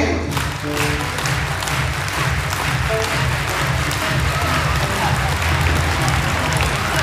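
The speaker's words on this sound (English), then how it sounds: "everybody clap your hands." A school audience claps along in a steady, dense rhythm, loud and continuous, with crowd voices mixed in throughout.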